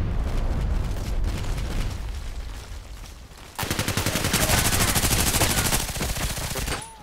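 PDR-C submachine gun fire in the Contract Wars shooter game, loud rapid bursts of automatic shots, a dense rattling stream in the second half after earlier heavier booming fire, all close and without talk.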